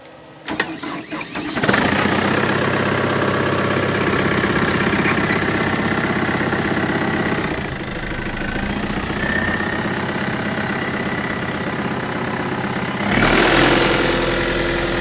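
A 20-year-old abandoned trimmer's engine cranks in a rough burst, catches, and settles into a loud, steady running drone that dips briefly before surging again near the end.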